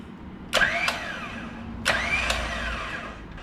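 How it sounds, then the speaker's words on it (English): A Smittybilt X20 winch on a Jeep JL whines up in two short bursts, each a rising motor spool that cuts off abruptly, with a faint hum between them. "I'm just going to test to make sure that it's spooling or it's functioning"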